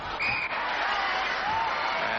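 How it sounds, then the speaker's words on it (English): A Melbourne netball crowd at a 1998 preliminary final against the Sydney Swifts applauds in a steady, moderately loud patter of clapping that fills the whole moment. "And the Melbourne crowd applauding the defensive work of Harrison."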